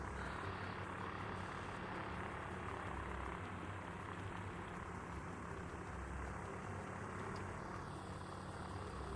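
Small aircraft taking off in the VR flight game Ultrawings, a steady droning engine roar that holds loud and unbroken from start to finish with no voices over it.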